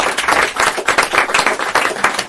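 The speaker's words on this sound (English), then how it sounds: "And applause for our panelists." Applause from a panel audience in Montreal, with a cluster of distinct hand claps in an uneven rhythm, loud and close, sustained throughout.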